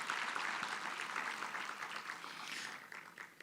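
Applause from a conference audience, a dense, steady wash of many hands clapping at moderate distance that holds for several seconds and then thins slightly toward the end, with no voices over it.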